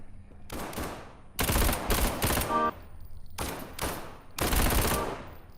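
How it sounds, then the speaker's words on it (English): Rapid automatic gunfire in the video game SCP: 5K, loud sustained bursts of fire in several long stretches separated by short pauses, close and dominant, with no voices. "I'm not sure how well the rapid firing is picking up on here."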